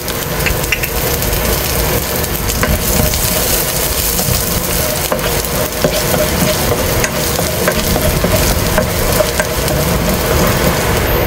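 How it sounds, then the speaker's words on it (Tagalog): Garlic sautéing in a hot wok-style pan for a Filipino garlic fried rice dish, a loud, steady sizzle and crackle filling the whole stretch, close and continuous with occasional stirring scrapes and no talking. "Magigisa na tayo."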